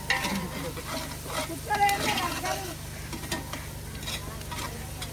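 Village-style country chicken curry ingredients, onions among them, sizzle in a hot pan with a steady crackle, broken by occasional scrapes of stirring close by.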